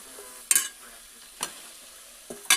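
Amaranth (thakara cheera) leaves tossed into hot seasoning in a pan, with a few sharp scraping clatters of stirring spaced over a faint, steady frying hiss.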